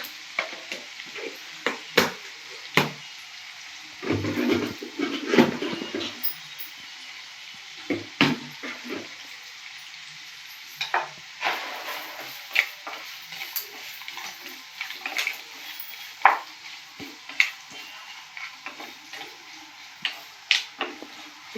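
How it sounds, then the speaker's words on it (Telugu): Vegetable pieces fry in oil and ghee for a veg biryani, with a soft sizzle broken by irregular sharp scrapes and taps of a spoon against the pan; no talking. "వెజిటేబుల్ ముక్కలన్నీ నూనె నెయ్యి వేసాం కదా, వీటిలో బాగా ఫ్రై అవ్వాలి కొంచెం మెత్తబడే వరకు"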